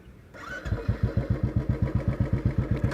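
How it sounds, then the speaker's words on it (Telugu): A Royal Enfield Classic 350 BS4 motorcycle engine cranks and catches, then settles into its steady thumping single-cylinder idle, close and even, beat after beat with no talking. "ఇగ్నిషన్ ఆన్ చేస్తున్నా."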